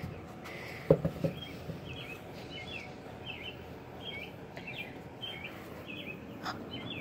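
Faint bird chirps repeat steadily in the distance over a quiet outdoor background, with a couple of brief louder knocks near the start.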